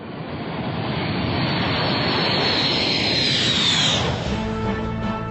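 A MiG-31 jet interceptor roars past, a loud broadband engine rush swelling and holding with a high whine sweeping downward as it passes, then easing off.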